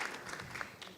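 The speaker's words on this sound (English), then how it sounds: "You started the clapping yourself." Audience applause at a private sector roundtable high-level breakfast, a soft, steady wash of claps heard at a distance.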